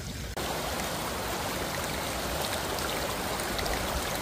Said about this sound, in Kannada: ಇಲ್ಲಿ ಯಾಣಾಗ ಆನ್ ದ ವೇ ಇದ್ದಾಗ ಒಂಥರ ಮಿನಿ ಫಾಲ್ಸ್ ಥರನ ಇಲ್ಲಿ ಹರಿತಿತ್ತಲ್ಲಿ ನೋಡಿ